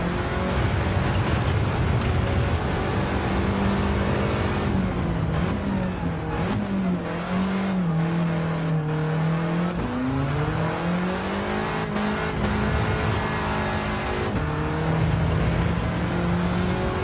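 A race car lapping Tsukuba in the video game Gran Turismo 7, loud continuous engine note rising and falling through gear changes and corners, close and unbroken, no voices.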